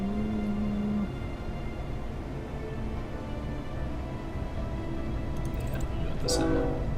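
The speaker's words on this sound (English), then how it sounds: "Oh, train." A rumbling train rolls past with a steady low drone, a brief tonal horn early on and a sharper whistle-like blast near the end, over a constant mechanical background.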